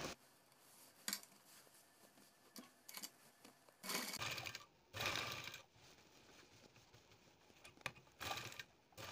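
A sewing machine stitches along the inner folded neckline edge of a lotus-design back-neck blouse, running in short bursts of whirring, rattling stitches separated by pauses, close and clear with no talking.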